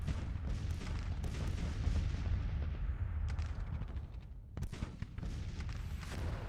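Distant bombardment and gunfire from a Civil War strategy game, with Confederate troops under fire in North Georgia: a steady low rumble of artillery and musketry, with sharper cracks bursting through near the end.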